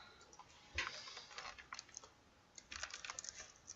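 A computer keyboard is typed on in quick, irregular bursts of light clicking with a short pause midway, quiet and close.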